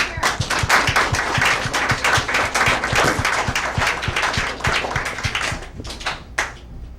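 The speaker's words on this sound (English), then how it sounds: "I want to give the parents an applause." Applause from a crowd honoring parents at a township mayor's award ceremony, steady and dense clapping that carries on for several seconds before thinning out near the end.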